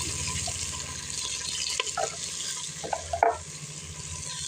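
Green chillies fry in a pan for goat head curry, giving a steady soft sizzle with a few brief stirring clinks and scrapes partway through.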